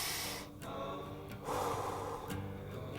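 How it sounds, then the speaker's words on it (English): A person takes a deep audible breath close to the microphone, an inhale followed by a slow exhale, with soft background tone and no talk. "Let's all just take a breath."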